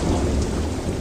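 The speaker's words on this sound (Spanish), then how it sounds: "la lluvia comenzó a caer sobre la superficie rocosa" Steady rain falls on a rocky surface while deep thunder rumbles throughout, a dense, loud storm wash with no voices.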